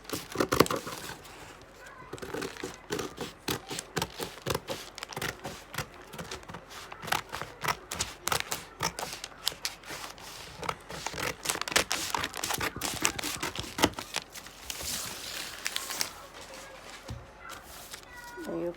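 Scissors cutting through a paper sewing pattern for a shoulder-dart bustier, with dense crinkling, rustling and snipping that runs steadily throughout.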